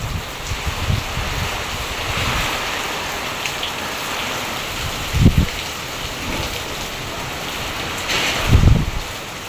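Heavy rain from Typhoon Uwan in Bicol, a dense, steady roar of downpour with low gusting rumbles swelling now and then.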